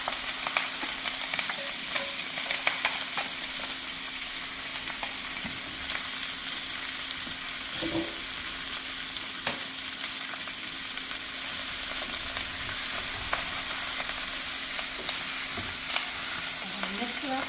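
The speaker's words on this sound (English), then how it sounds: "I'm going to mix it up really well." Boiled potatoes being stirred into sautéed bacon and onions in a pot for stamppot, giving a steady sizzling, scraping stir that runs throughout at moderate level, with occasional sharper knocks.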